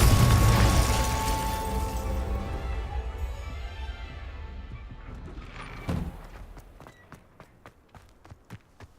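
A Confringo spell blast in the video game Hogwarts Legacy: a loud rumbling boom that fades over several seconds, then a sharp burst followed by a string of short, quieter pops and crackles.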